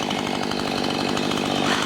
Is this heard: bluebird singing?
no